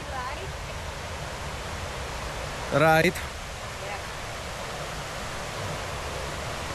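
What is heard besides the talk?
waterfall, Tat Huang Waterfall in Thailand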